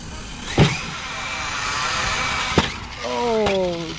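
An Arrma Notorious RC stunt truck driven outdoors, its electric motor whining with rising and falling pitch, punctuated by a few sharp impacts from landings.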